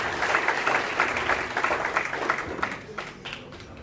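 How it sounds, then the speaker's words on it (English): A crowd at an evening celebration of the Japanese Emperor's birthday applauds the Deputy Prime Minister, a moderate round of clapping that gradually thins and fades toward the end. "How about a round of applause for the Honourable Deputy Prime Minister?"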